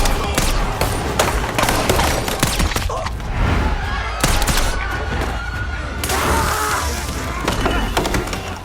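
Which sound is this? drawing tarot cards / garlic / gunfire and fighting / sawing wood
gunfire and fighting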